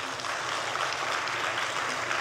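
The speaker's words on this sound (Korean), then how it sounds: "박수 좀 한번 쳐줘" A church congregation applauds together in a dense, steady patter of claps that fills the room for a couple of seconds without pause.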